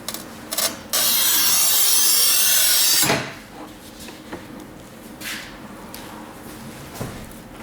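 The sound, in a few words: Stark MTC 1000 tile cutter cutting 12 mm porcelain stoneware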